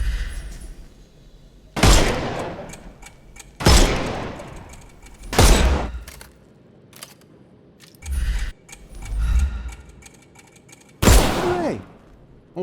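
Gunfire in the Sherlock Holmes Chapter One video game: loud, close shots arriving in separate bursts every couple of seconds, each with a short ringing tail, over a quiet game background.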